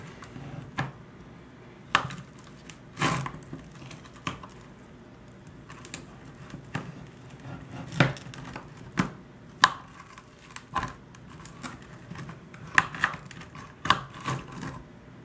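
A knife chops through smoked BBQ baby back ribs on a cutting board, giving a series of irregular, sharp, close taps and thunks spread across a quiet background.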